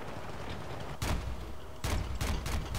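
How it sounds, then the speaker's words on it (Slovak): Gunfire and bazooka blasts in the Battlefield: Bad Company video game: several sharp, loud explosive bangs, one alone and then a quick cluster of three or four, over a constant noisy battlefield rumble. "Strieľam teraz do mulika s bazúkou, vieš?"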